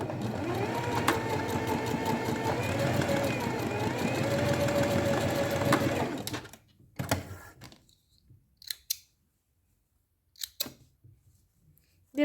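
A sewing machine runs a steady stitching burst for about six seconds while sewing a seam in a pleated skirt, followed by quieter handling clicks and small rustles of fabric.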